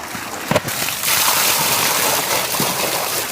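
Water poured and splashing over stone grinding slabs being rinsed outdoors in a village kitchen, a brief knock near the start, then a steady broad wash of running, splashing water.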